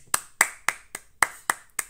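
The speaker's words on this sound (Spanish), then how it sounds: "Un aplauso medio, a ver." Seven sharp, separate hand claps ring out at an even pace, close and fairly quiet, like a small studio audience giving a half-hearted round of applause.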